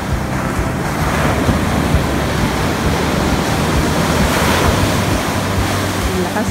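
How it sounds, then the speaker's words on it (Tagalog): Strong ocean waves surging on a beach, a loud, continuous roar of surf and churning water with wind buffeting the microphone throughout. "Lakas ng alon."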